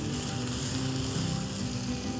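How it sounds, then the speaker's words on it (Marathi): Mutton keema sizzles steadily as it is sautéed in a hot pan with roasted masala, a dense, even frying hiss that is close and continuous with no talk. "त्याच्यात जाईल हा मटणाचा खीमा. तो असं चांगला परतून घेऊया."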